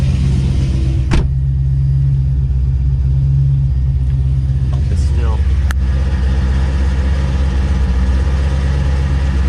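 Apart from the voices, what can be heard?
car engine idling in warm-up mode after fuel pump install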